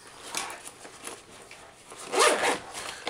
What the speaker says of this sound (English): Opening up our main compartment, there's two pretty heavy duty zippers